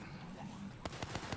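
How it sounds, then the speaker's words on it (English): A flare fired in Overkill's The Walking Dead on PC, heard as a rapid string of sharp crackling pops and bursts that start abruptly after a quiet stretch of game ambience. "I'll fire the flare"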